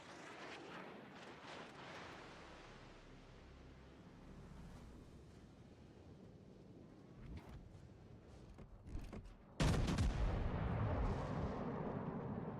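Heavy battleship main-battery salvos in a naval warfare game, fired over an island: a rumbling, wind-like roar of distant gunfire with a few sharp reports, then a loud close blast near the end that sustains into a thick boom.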